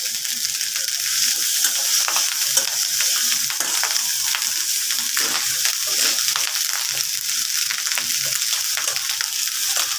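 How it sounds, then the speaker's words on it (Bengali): Potatoes sizzle loudly in a pan of hot oil, a dense, continuous crackle with steady stirring scrapes running the whole time, close and bright, with no talking. "এই তো আলু দিয়ে দিচ্ছি আলুগুলি ভাজা ভাজা করতেছ ভাজা ভাজা করবা"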